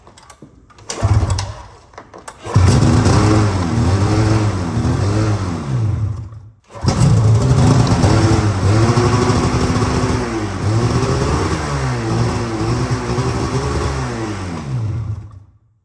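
Polaris RMK 800 snowmobile engine struggling to settle into a low idle, loud uneven two-stroke running with wavering, surging revs in two bursts separated by a brief cut, close up and without speech.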